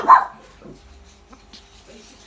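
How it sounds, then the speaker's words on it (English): A family dog gives one sharp bark at the start, followed by softer whimpers and faint yips in a quiet indoor room. "Is she barking at you?"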